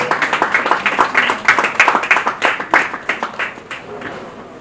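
An audience applauding at a maritime arts presentation, a few distinct clappers at first building to brisk clapping that thins out toward the end, with a voice speaking faintly underneath.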